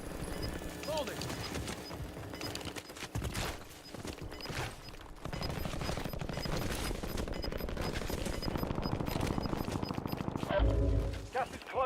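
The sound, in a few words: gunfire in Call of Duty video game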